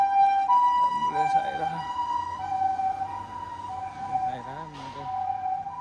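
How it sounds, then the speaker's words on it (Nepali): An ambulance siren wails along a city street in Japan, a steady tone with rising and falling sweeps, moderately distant, while a person talks nearby. "एम्बुलेन्स पनि गयो"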